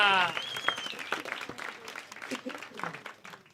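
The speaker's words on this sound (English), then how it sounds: "So let's start clapping. Come on, let's lift it up. Make the noise" Applause and cheering rise from the crowd at Hot Water Comedy Club in Liverpool as a comedian is welcomed, steady clapping under a host's voice, fading somewhat toward the end.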